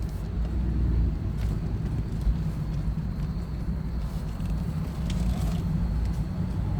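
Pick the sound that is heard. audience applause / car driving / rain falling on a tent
car driving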